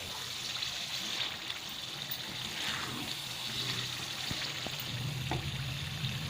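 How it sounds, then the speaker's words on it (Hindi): Turnip and beef curry (shalgam gosht) fries in oil in a pan, giving a steady, even sizzling hiss throughout with faint bubbling and no voices. "ऑयल के बाद हम इसको अच्छी तरीके से भून रहे हैं।"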